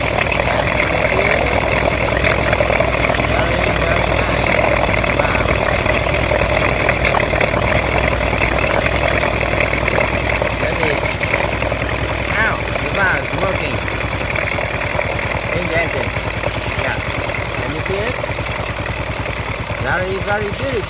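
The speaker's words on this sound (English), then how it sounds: "This engine has a very nice idle speed." A single-cylinder Honda motorcycle engine idles steadily with an even, continuous mechanical rumble, close and loud throughout, while people talk faintly beneath it.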